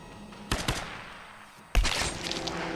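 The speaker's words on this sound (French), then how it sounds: "Putain mais Ross tu tires bien" Gunfire in the action game Tomb Raider: a couple of sharp shots early, then a loud burst that trails into a noisy rattling battle, without any voices.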